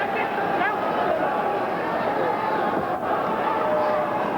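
A British boxing crowd roars at an exchange between Alan Minter and Marvin Hagler, a dense, continuous wall of voices at steady loudness throughout.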